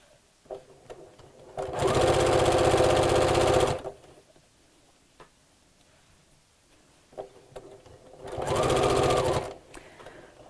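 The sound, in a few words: sewing machine stitching bias binding onto fabric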